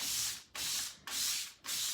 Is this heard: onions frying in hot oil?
no